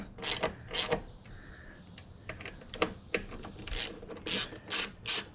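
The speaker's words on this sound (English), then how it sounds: "Get this airbox cover off." Airbox cover being removed from a Craftsman lawn mower, a series of close, short plastic rasps and clicks in uneven bursts with brief quiet gaps between them.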